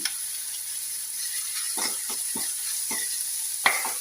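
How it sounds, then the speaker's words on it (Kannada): Curry leaves hit a pan of salted onion for a dosa side, giving a soft, steady sizzle dotted with a handful of short spatula scrapes and one sharper clack near the end. "ಒಂದು ಸ್ವಲ್ಪ ಕರಿಬೇವು ಹಾಕ್ತಾ ಇದ್ದೇನೆ"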